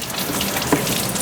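Tap water runs steadily from a faucet to wash a dog, a continuous close hiss with no voices over it.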